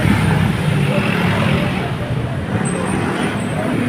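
Trucks rumble past on a busy road, a steady close wash of heavy engine and tyre noise with faint traffic hum, and voices talking over it.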